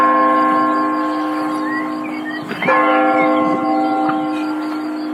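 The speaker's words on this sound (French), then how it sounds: "je crois que là on a entendu les cloches sonner, il est 11h" Church bells toll at eleven o'clock outdoors at a wine estate, a steady sustained ringing with layered resonant tones that carries through the whole stretch, alone without talk.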